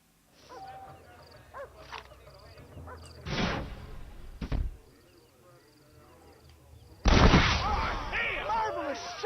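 Gunshots in the video game Red Dead Redemption crack out loudly amid game sounds and talk, with a couple of sharp single reports followed by a heavier, booming blast near the end.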